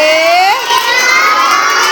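Young children at a birthday celebration in an anganwadi cheer and shout together in a loud, continuous burst of high voices, with no distinct speech.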